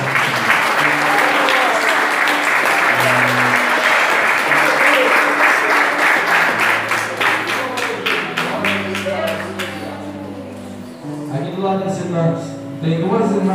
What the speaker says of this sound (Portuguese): Palmas que exaltam